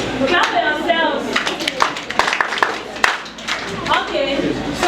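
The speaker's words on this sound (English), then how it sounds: "Clap for yourselves." Children in a group talk session clap for themselves in scattered, uneven bursts, mixed with ongoing voices and chatter nearby.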